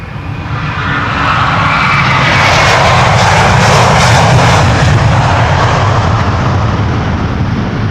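A roughly 20-year-old airliner takes off from Schiphol's Polderbaan runway 36L/18R, its engines giving a loud, near, sustained roar that swells and holds steady throughout.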